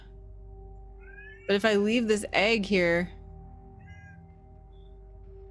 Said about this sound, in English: That's my cat. There's all sorts of noises.